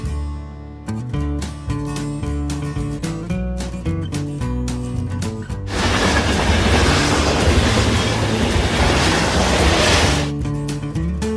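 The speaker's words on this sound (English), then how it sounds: "Brown train." A toy train runs with rhythmic tonal clatter and chugging, then a loud rushing hiss for several seconds before the clacking returns, close and loud with no voices.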